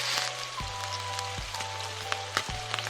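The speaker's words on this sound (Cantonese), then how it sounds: "反轉，煎香埋另一面" A leftover turkey burger patty, pressed flat and flipped to brown the other side over high heat, gives a soft, steady crackling sizzle over a low hum, with a few light knocks.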